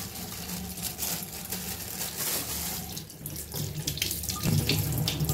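A kitchen tap runs continuously into a sink while goat meat is washed, a close, steady gush of water with slight shifts in splash.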